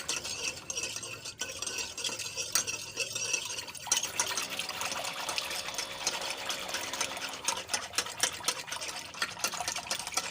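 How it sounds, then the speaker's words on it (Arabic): A cold Oujda-style juice mixture made with chilled milk and water is stirred in a container, giving continuous close sloshing and swirling liquid sounds with a busy, churning rhythm. "دابا غنبدا نحرك"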